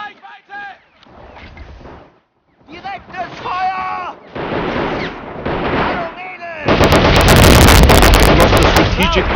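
Gunfire and explosions from the video game Men of War Assault Squad 2 in a British Scheldt mission, a dense loud barrage that builds near the end, with voices shouting over the first half.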